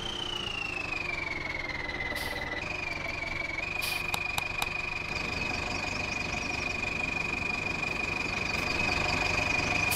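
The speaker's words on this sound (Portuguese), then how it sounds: "Nem mostrei o caminhão pra vocês, né?" A V8 truck engine idles in Farming Simulator 19, a faint steady hum with a sustained whine whose pitch dips early and then holds level, heard alone with no talk.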